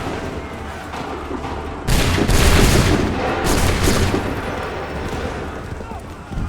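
A loud musket volley from a line of soldiers in Assassin's Creed 3 erupts all at once, followed by a second burst of scattered shots and a rolling, fading battlefield din.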